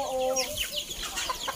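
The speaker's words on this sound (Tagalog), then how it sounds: "manok tapos mga kalapati" Several chickens cluck and squawk nearby in quick, irregular bursts, with brief higher calls mixed in.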